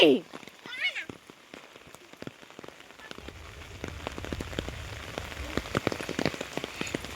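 Heavy rain pours outdoors, building from scattered drops after a few seconds into a dense, steady patter of drops striking surfaces, with a brief sharp sound at the start.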